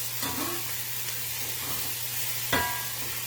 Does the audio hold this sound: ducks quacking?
no